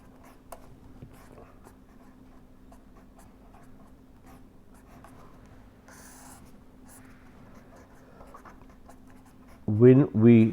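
Faint scratching of writing on a board during an engineering lecture on heat transfer, light and intermittent under a low hum, followed by a voice at the very end.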